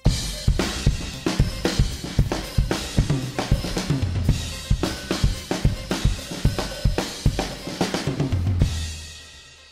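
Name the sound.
full drum kit played together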